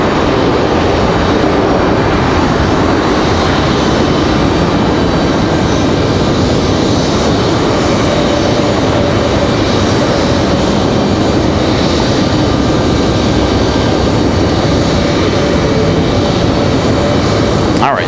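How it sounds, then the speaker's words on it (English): A sustained loud jet roar from an Airbus A220 at Raleigh Durham airport fills the whole stretch, a dense steady rumble with a faint whine and some voices mixed underneath. "We've got this A220 over here."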